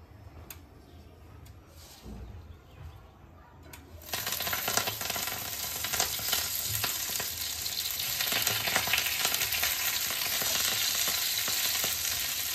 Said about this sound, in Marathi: आपल्याला तेलात भाजी परतायची